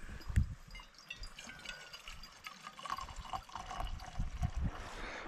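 River water flowing gently around a float boat drifting downriver, a soft, faint trickling and lapping that continues without a break and without voices.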